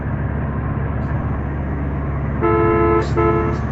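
A bus on a mountain road sounds its horn: a loud, steady engine and road rumble throughout, then two close, blaring horn blasts near the end, the first longer and the second shorter.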